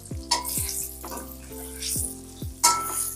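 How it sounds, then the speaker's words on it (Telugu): Chicken pieces for pickle fry in hot oil with a steady close sizzle, broken by a few scraping stirs and clinks of a utensil against the pan, with no talk. "పీసెస్ అన్నీ కొంచెం గట్టిగా వచ్చే వరకు ఫ్రై చేసుకోవాలి"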